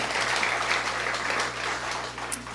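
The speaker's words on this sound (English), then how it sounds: "And so, applause to them." Applause for the musicians backing a song at a community gathering, a steady wash of clapping with a sharp clap or click near the end.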